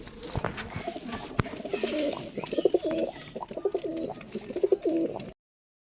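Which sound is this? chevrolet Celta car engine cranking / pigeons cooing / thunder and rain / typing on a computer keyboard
pigeons cooing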